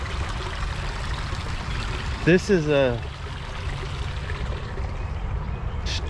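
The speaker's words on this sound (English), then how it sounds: "Look at these little falls right here." Small waterfall in an inner-city creek over concrete and industrial rubble gives a steady rushing, splashing flow; someone briefly speaks over it.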